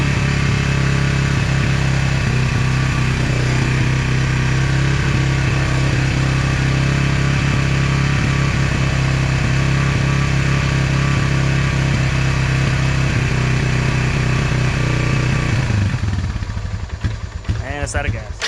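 Close, loud steady idle of a repaired Honda TRX 300FW ATV engine, a constant low rumble that falters and sputters near the end.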